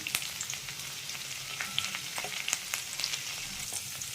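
Green chillies and dried red chillies sizzle in hot oil for lemon rice, a steady close fry with scattered pops and crackles and no voices.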